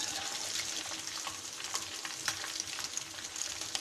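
Fish frying in hot oil for a fish fry salan, a steady close crackling sizzle with small pops that runs unbroken throughout, with no talking over it.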